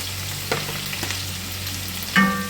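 Chopped white onion and garlic fry in a pan with a steady close sizzle, broken by a couple of brief utensil clinks and scrapes, without any talking.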